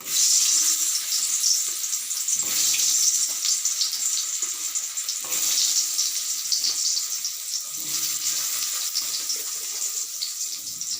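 Taro pieces sizzle steadily in hot oil, a loud continuous hiss and crackle with a few brief clinks of a utensil, no voices.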